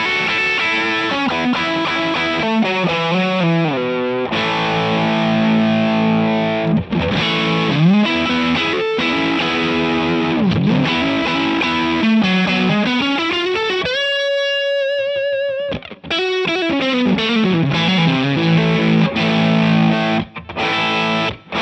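An electric guitar on its bridge pickup runs through a One Control Dyna Red Distortion pedal, playing continuous loud, saturated riffs and sustained chords with sliding notes and brief gaps, close and upfront with no voice.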